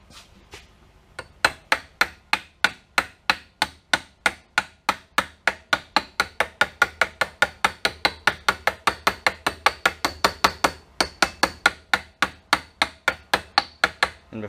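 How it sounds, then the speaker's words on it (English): Hammer tapping a bearing onto a sprayer pump shaft, a long run of rapid, evenly spaced metallic strikes, close and crisp, with no speech. "I'm hitting the bearing with a hammer"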